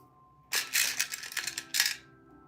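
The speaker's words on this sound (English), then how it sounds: "it is my kitty batting a charger around." A pet cat bats a phone charger around indoors, giving a short run of light clattering and rattling knocks against a hard surface, close by and without talk, over a faint steady background hum.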